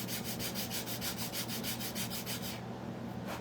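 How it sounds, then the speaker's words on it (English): Light, steady sanding across a piece of charred wood, a continuous rhythmic scraping rub with repeated even strokes, close and alone, ending in a short quieter pause with one last stroke. "you could actually sand a little bit of it first if you wanted to. Just lightly."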